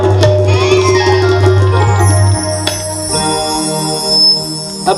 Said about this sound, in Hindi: अब घंटी जोर से बजने लगी